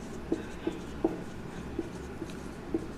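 Pen or marker strokes on a writing surface during a Class 9 biology lesson, a handful of soft, evenly spaced taps and scratches, fairly quiet and close, with no speech over them.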